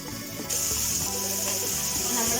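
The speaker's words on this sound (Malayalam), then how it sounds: "ഈ ഭാഗത്ത് കടുക് പൊട്ടിക്കോളും." Mustard seeds splutter in hot oil, with a sudden loud, dense sizzling hiss that starts abruptly and continues steadily at close range.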